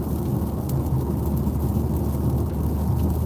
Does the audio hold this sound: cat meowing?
no